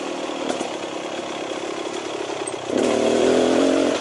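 A 2018 Beta Xtrainer 300 two-stroke dirt bike putts along steadily in third gear, its engine note close and even, then rising into a louder, fuller drone toward the end, with no talking.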